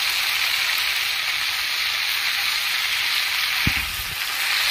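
Ground coriander and spices sizzle steadily in a hot pan, a loud continuous frying hiss with a brief soft knock or stir near the end.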